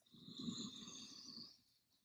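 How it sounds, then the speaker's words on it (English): Ujjayi yoga breath, an ocean-like breath drawn through the nose with the back of the throat constricted, heard as one steady, close, hissing exhalation lasting about a second and a half before fading. "we're starting to pick up that ujjayi breath, or that ocean sounding breath"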